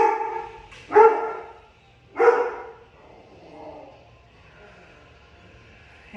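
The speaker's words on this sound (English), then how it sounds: "And here we have the dogs." A dog gives two sharp, fairly close barks about a second apart, then a softer whimpering yelp, with quiet room tone between.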